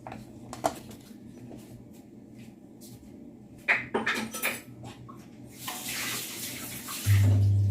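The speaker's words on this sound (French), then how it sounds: "j'ai pris un verre d'eau, mais je vais rajouter au fur et à mesure" Water is poured into semolina dough in a home kitchen for msemen flatbread, a soft splashing rush near the end after some faint clinks and handling noises.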